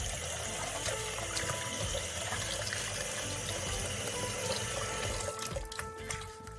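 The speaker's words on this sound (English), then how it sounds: "Just gonna wash it off, and then I'm just gonna rinse it off." Running water from a sink tap rinses an item under a steady, loud, close splashing stream that continues without a break and eases slightly near the end.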